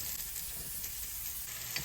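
Zucchini sizzling and frying steadily in a pan, a continuous bright crackle at close range with no voices.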